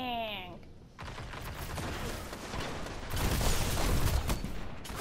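A fully automatic shotgun in a video game fires in dense, continuous bursts, building louder toward the end, with mechanical game noise around it.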